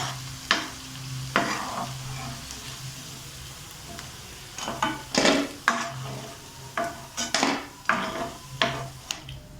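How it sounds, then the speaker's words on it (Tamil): Mushrooms deep-frying in hot oil bubble and crackle steadily at close range, broken by irregular clinks and scrapes of a ladle against the pan. "இதே மாதிரியே எல்லாத்தையும் போட்டு பொரிச்சு எடுத்துக்கலாம்."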